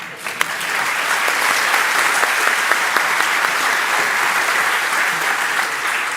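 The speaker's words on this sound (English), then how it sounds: "So applaud to that." Sustained audience applause at an academic-year opening event, dense and even from start to finish, rising quickly after a sharp initial clap and holding steady.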